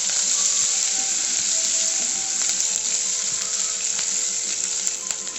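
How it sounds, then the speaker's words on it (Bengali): Onions fry in a pan over low heat, giving off a steady bright sizzle that continues evenly throughout, close and unbroken, with no one speaking. "আমি একটু অল্প হিটে ভাজবো যাতে পেঁয়াজগুলো পুড়ে না যায়"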